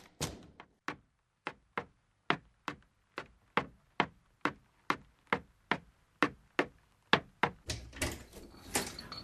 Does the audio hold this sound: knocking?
yes